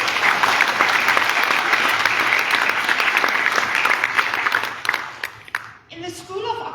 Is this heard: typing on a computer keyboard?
no